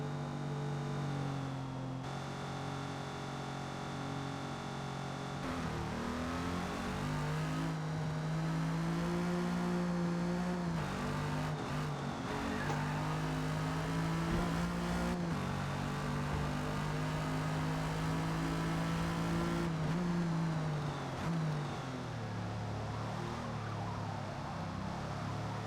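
A 1956 Jaguar D-Type racing at Yas Marina in Forza Motorsport, its engine droning steadily and loudly throughout, pitch rising and falling with gear changes and throttle, with no talk over it.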